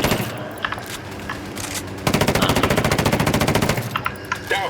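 Loud, sustained automatic gunfire in Ghost Recon Wildlands, aimed at a chopper. A dense, rapid burst of shots runs for nearly two seconds, with scattered game noise before and after it.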